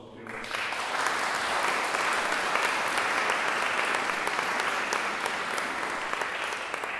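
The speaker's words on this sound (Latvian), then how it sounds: "Vēl viens aplausu." A chamber music audience in the White Hall of Rundāle Palace gives a long, full round of applause, dense and even, swelling in quickly and holding for several seconds in a reverberant room, with no voices heard.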